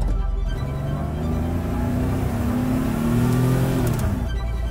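A Volkswagen T3 B32 Carrera van fitted with a Porsche engine of over 200 horsepower accelerates, its loud, close engine note climbing steadily through the revs with no talk over it.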